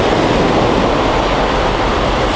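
Sea waves washing onto Cleethorpes beach near high tide, a steady, loud, continuous roar of surf with some wind noise and no breaks, heard alone without any voices.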